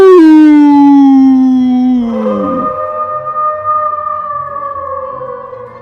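A single voice imitates a monster's howl: a loud, long, falling wail that bends into a wavering, sustained tone, alone with no other sounds.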